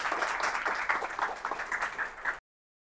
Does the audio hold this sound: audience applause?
yes